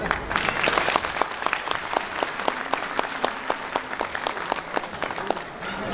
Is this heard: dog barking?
no